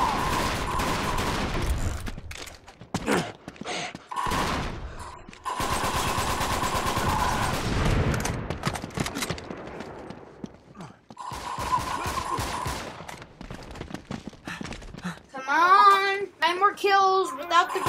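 Bursts of automatic gunfire from a machine gun in the video game Uncharted 3 Drake's Deception come in several rapid volleys, separated by short gaps, with game sound effects near the end.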